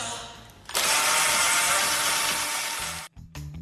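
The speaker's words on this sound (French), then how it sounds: "cette jeune fille espérait en fixant son téléphone à la perceuse avec du ruban adhésif" A power drill with a phone taped to it spins up suddenly into a loud, steady whirring roar that holds for over two seconds before cutting out, followed by brief low clatter.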